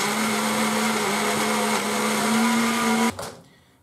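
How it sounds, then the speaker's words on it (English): An old kitchen blender whizzes carrots and garlic, a loud steady motor whine that rises slightly before cutting off abruptly near the end and fading away. "usually the old blender does struggle a bit."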